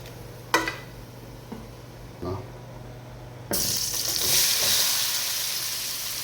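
Pomfret (rupchanda) cooks in a pan of oil: a few light clanks and splashes, then a sudden broad hissing sizzle that swells and carries on close by.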